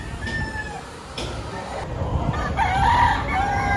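A white rooster at a poultry market in Lipa, Batangas crows near the end amid clucking and other fowl, with market background noise and some voices underneath.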